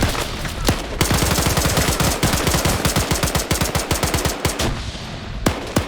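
Rapid bursts of gunfire ring out in a large 100-plus player online battle game, a dense run of sharp repeated shots with brief gaps, loud and close, with explosions in the mix.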